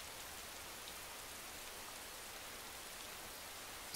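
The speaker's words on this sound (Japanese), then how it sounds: "雨強くなるかもしれないし。" Steady rain falls continuously, a dense even hiss of drops on surfaces with no voices.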